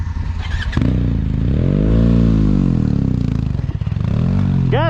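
A motorcycle engine revs up and surges loud and close while riding through the deep fine sand of Purne fech fech, rising and falling in pitch with some clatter of the bike.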